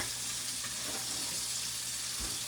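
A steak fries in a pan on an electric stove, giving a steady, soft sizzling hiss that runs through the whole stretch at low level, with a faint thump near the end.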